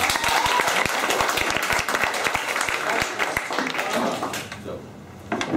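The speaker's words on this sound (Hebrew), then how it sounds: "מחיאות כפיים." Audience applause fills an indoor event hall with dense, steady clapping from a sizable crowd, fading slightly toward the end of the burst.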